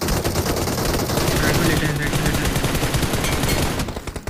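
Heavy, sustained automatic gunfire in the BGMI battle royale game, dense rapid bursts of shots filling the whole stretch at close range and steady loudness, with no talk over it.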